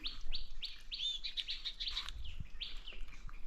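Birds chirp outdoors on a Konkan farm, with repeated bright tweets and short calls in quick bursts, moderately near, and no talking.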